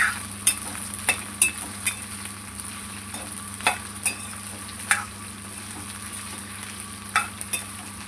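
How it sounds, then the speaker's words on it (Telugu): Sliced okra fries in hot oil in a kadai, a constant sizzle broken by sharp spatula clicks and scrapes every second or so as the pieces are tossed; no voices. "బెండకాయలు వేసుకొని ఇలా తిప్పుకుంటూ బెండకాయలను అయితే ఫ్రై చేసుకోవాలి."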